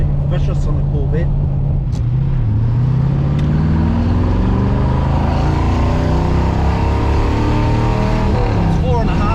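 A 1970 Chevrolet Corvette C3 with the LT1 engine accelerates hard in third gear, its loud steady exhaust note rising in pitch across the run, with someone talking over it.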